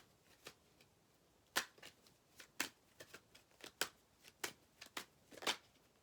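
Tarot cards being shuffled by hand: a run of crisp, close papery flicks and slaps, irregularly spaced and fairly quiet, with no talking.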